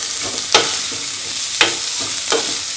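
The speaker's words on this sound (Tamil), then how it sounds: "நல்லா வதக்கிக்கலாம்." Potato, carrot and curry leaves sauté in a hot pan for rice upma, a loud continuous sizzle punctuated by three distinct scraping strokes of stirring, with no voices.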